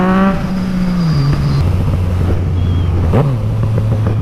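A BMW M440 engine revs up and settles, its exhaust crackling with scattered pops near and loud.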